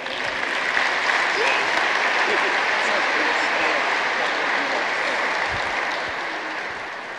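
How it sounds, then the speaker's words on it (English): Steady, loud applause from a crowd, sustained throughout and tapering slightly at the end. "So please give them one round of applause again."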